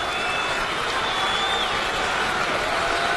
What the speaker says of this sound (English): Fired up crowd.